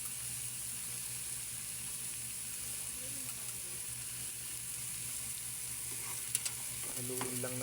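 An eggplant omelette, tortang talong, fries quietly in a pan, giving a soft constant sizzle before a few sharp scraping clicks from stirring near the end.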